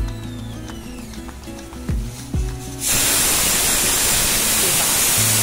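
A kitchen pressure cooker vents steam with a loud, steady broadband hiss that cuts in suddenly partway through. Before it starts there is quieter kitchen clatter with a few low knocks.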